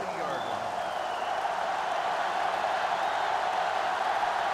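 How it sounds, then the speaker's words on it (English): Stadium crowd noise from a college football video game between Texas and Georgia, a steady sellout roar with applause-like texture under play-by-play commentary throughout. "This sellout crowd is really making a difference now as these guys can't even call the play."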